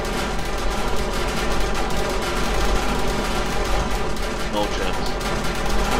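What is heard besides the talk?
turret gunfire in the video game Borderlands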